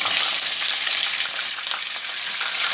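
Chicken pieces fry in a pan of hot oil, giving a loud, steady, close-up sizzle with faint crackles throughout.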